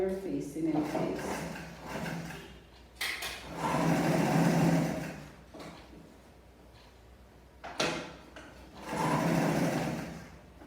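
A sewing machine top-stitches the facing of a blouse collar in several running bursts with pauses between them, while someone talks over the stitching.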